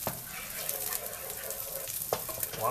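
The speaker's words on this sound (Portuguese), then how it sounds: "Aí esse alho nós vamos dar uma torradinha nele" Garlic frying in melted lard in a pan, a steady close sizzle and crackle with a few sharper spits and stirring scrapes, no voices.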